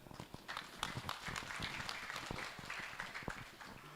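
Audience applause at a GP Ansor Jawa Timur branch conference, a faint, steady patter of many hands clapping, fairly distant and continuous.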